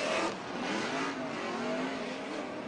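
A Formula Drift car's engine revs hard and steadily for a few seconds in a full pull during a competition run, with a loud, gritty roar and a little surging in pitch.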